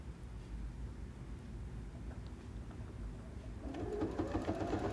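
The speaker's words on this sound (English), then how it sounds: "just sewing 1/4 inch away from the inside" A sewing machine stitching folded quilt binding runs as a faint, steady low whir, growing slightly louder near the end.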